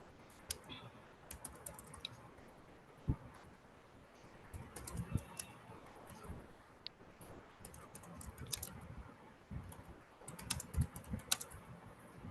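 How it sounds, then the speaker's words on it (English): Typing on a computer keyboard during an online math class, a steady run of soft, irregular key clicks with a few sharper taps, fairly close and quiet, with no talking over it. "are you typing something?"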